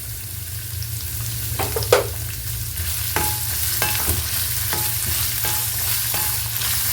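Amla (Indian gooseberry) pachadi sautéing in a pan makes a steady sizzle over a low hum, with repeated spatula scrapes and stirring strokes.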